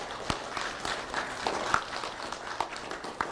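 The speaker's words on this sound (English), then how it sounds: "applause" A small audience claps for award recipients, a scattered, fairly quiet patter with a few sharper individual claps standing out.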